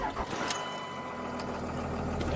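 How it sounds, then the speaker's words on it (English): A truck engine starting and running in a store parking lot, a brief crank near the start settling into a steady, moderately quiet idle hum with faint noise around it. "It's going to be a little noisy here when I start the truck."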